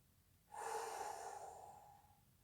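A slow, deep exhale during a guided yoga breathing exercise, a soft airy rush that starts suddenly and fades gradually over about two seconds in a quiet room.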